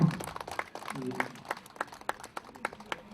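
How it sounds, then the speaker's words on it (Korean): Sparse, scattered clapping from a small outdoor crowd at a street performance of pumba (gakseol-i comedy) at Yeongildae Beach, fairly faint with individual claps standing out and voices murmuring around it. "박수 한번 주세요"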